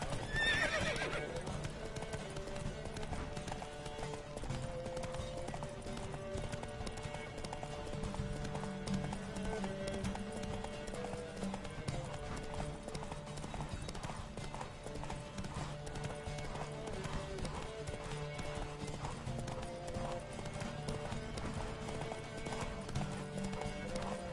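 Rapid hoofbeats of several horses galloping in a race in the video game The Witcher 3 clip-clop continuously over a backdrop of music, with a whinny near the start.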